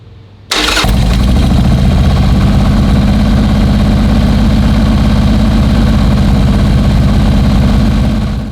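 Motorcycle engine with an S&S Cycle 1200 conversion kit on an XL model fires up after a brief crank and settles into a steady, loud, rumbling run for break-in, no voices present.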